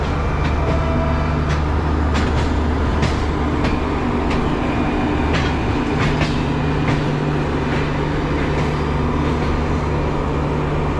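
A train at New Delhi railway station: steady loud rumble of rolling stock with repeated clanks and rail clatter, close and continuous, no talking.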